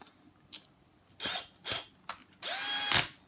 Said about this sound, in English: So I use my drill for this, and I use my drill on purpose because it's got a torque setting